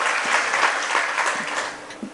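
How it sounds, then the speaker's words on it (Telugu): A church congregation claps hard together in praise, a dense burst of many hands applauding at once that swells and then begins to taper off. "ఒకసారి గట్టి చప్పట్లు కొట్టి దేవుని స్తుతిద్దాం."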